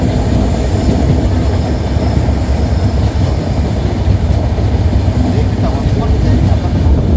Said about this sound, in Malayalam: ആദ്യമായിട്ടാണ് ഈ ഒരു റൂട്ട് ട്രെയിനിൽ പോകുന്നത്.